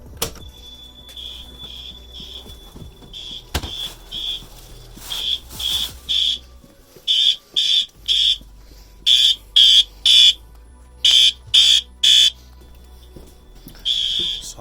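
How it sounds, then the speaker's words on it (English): A fire alarm horn strobe, wirelessly activated, sounds in repeated short bursts, loud and insistent, with brief pauses between groups of blasts over a quiet room background. "it wirelessly activates the horn strobe in the back room"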